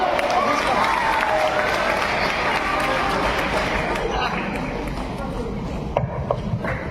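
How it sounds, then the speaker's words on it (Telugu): Audience clapping hard at a science day magic show: a dense, continuous wash of applause with voices mixed in, easing slightly toward the end. "గట్టిగా చప్పట్లు కొట్టండి."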